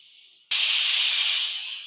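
A pressure cooker cooking rajma and rice lets off its whistle: after a faint hiss, a loud, abrupt burst of high, shrill steam hiss bursts out close by and holds steadily.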